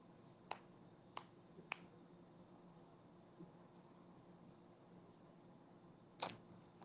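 A few crisp finger snaps, three in quick succession and then a louder one after a pause, close and clear over a low steady hum, with no speech, while someone idly watches a Mexico vs Ecuador World Cup match.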